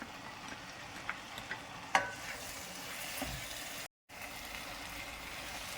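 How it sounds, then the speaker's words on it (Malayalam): Pre-fried cauliflower florets stirred into a cornflour sauce for Gobi Manchurian, a faint steady sizzle with light scrapes and taps of a spoon against the pan, a brief dropout midway, no talk. "ഇനി ഇതിലോട്ട് നേരത്തെ പൊരിച്ചു വെച്ചിരുന്ന കോളിഫ്ലവർ ചേർക്കാം"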